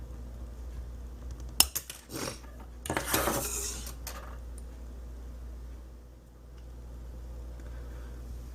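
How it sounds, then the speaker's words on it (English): A sprue cutter snipping plastic model kit sprues, a handful of close, sharp clicks and snaps followed by a brief rustle of plastic pieces, then quiet room tone. "I'm going to use my sprue cutter and start cutting away."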